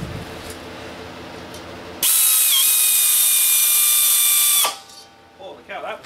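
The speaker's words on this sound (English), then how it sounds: "I got my drill ready here, my air-powered drill" An air-powered drill whines loudly and steadily for a couple of seconds as it bores into a metal disc, then stops abruptly, followed by faint clatter.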